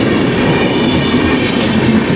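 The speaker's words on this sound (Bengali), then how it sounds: "ট্রেন যাচ্ছে" At a railway level crossing late at night, a train rushes past close by in a loud, steady roar of wheels and rattling carriages with faint clickety-clack, and nobody speaks.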